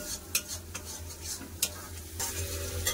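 Green peas sautéed in a pan for matar paneer, with a steady close sizzle and frying hiss broken by sharp scrapes and clinks of a spoon stirring against the metal.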